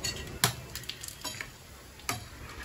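Stirring chopped coriander into a pot of buttermilk curry (mor kuzhambu), a few sharp spoon clacks against the vessel over soft bubbling, with no voices.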